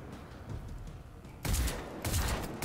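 Gunfire from a gun in a shooter video game, heard as two loud bursts of shots, the second starting about a second after the first, over a low background rumble.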